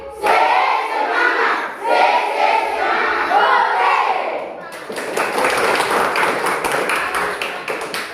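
A classroom group claps in unison on cue, with distinct sharp claps clustered after about 4.7 seconds, following a stretch of loud spoken instructions, in a teacher-training lesson setting.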